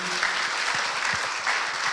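Church congregation claps in welcome, a dense steady wash of applause from many hands, with faint voices underneath.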